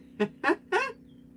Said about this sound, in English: Let me let the birds out now.